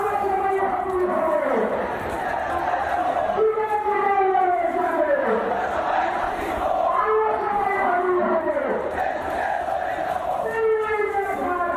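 A large street crowd in Bangladesh chanting azadi (freedom) slogans, rising and falling voices in rhythmic waves, loud and sustained like a rally, with a leader's calls echoed by the mass.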